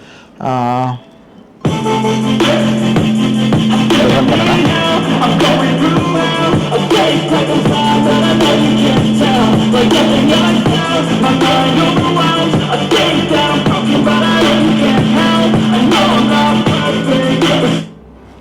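Upbeat electronic music plays steadily from a ZEBRONICS Igloo 2 Bluetooth speaker with a thumping bass line, preceded by a brief chirpy tone; it cuts off near the end.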